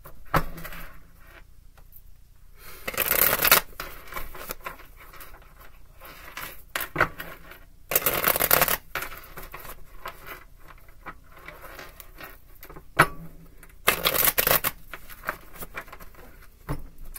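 Tarot cards are shuffled in three quick, rustling bursts separated by quiet pauses with faint handling noises.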